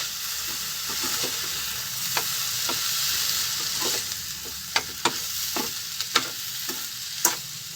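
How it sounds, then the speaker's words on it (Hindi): A spoon stirs and scrapes moong dal halva with milk in a hot pan, a steady soft sizzle broken by irregular clinks and scrapes against the metal, close up with no voices. "अभी मैं इसे मिक्स करूंगी"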